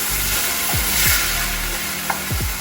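Panca Peruvian pepper mixture frying in a pan for beef empanadas, a loud close hiss of sizzling oil with a few scraping strokes of the stirring utensil, no talk.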